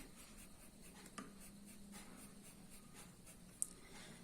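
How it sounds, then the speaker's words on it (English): A pencil shades on paper during a primary-school maths lesson, giving quiet, steady scratchy strokes close by, with one or two sharper taps. "With pencil you have to shade."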